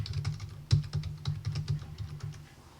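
Typing on a computer keyboard, a quick run of about a dozen crisp key clicks at an uneven pace, close and clear with no talk, ending in a slight pause.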